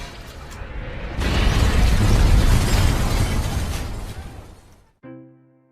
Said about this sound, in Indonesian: Lalu bom pun meledak.